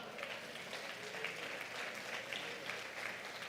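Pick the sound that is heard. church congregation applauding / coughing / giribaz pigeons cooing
church congregation applauding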